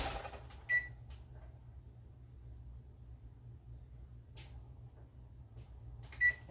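Kitchen oven timer being set to 45 minutes while a cake bakes: two short, bright electronic beeps, one near the start and one near the end, over a low steady appliance hum.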